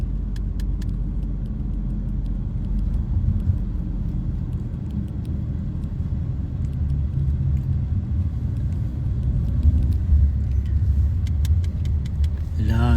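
Road traffic, a steady low rumble of cars and motor vehicles passing nearby, with faint jangling and ticking sounds on top and no clear talking.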